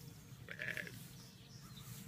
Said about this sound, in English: Well, good morning, mother sheep.